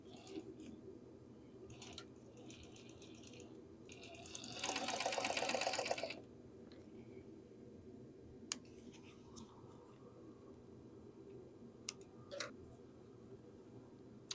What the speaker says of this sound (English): I'm also going to go ahead and top sew all this stuff like the last one just to make it stronger.